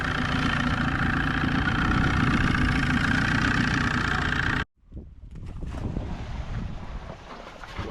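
A rebuilt Spectrum outboard boat motor runs loud and steady with a broad engine drone and wind noise, cutting out abruptly partway through, then a rougher, quieter rumble continues.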